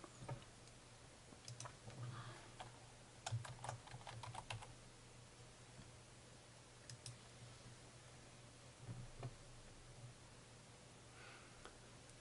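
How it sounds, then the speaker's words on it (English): A date of birth is typed on a computer keyboard, producing quick bursts of soft key clicks separated by pauses, faint and close, over a low steady hum. "I'm going to key his date of birth and then the first 5 characters of his last name"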